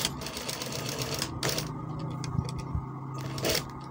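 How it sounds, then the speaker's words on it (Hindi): Sewing machine stitching a kameez, a steady low mechanical hum with a fast needle rhythm, broken by a few brief ticks and bursts as the fabric is guided. "ये जिस तरह मैं सिलाई लगा रहा हूँ इस तरह आपने भी लगानी।"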